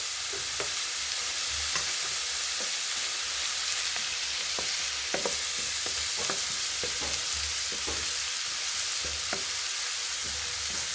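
Garlic and ginger sauté in a pan of oil, a constant bright sizzle close up with scattered light taps from stirring throughout.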